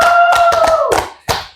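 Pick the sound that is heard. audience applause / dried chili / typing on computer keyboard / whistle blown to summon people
audience applause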